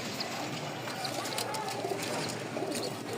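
Pigeons coo softly in a busy loft full of birds kept for sale, the low murmuring calls repeating under steady background noise and faint voices.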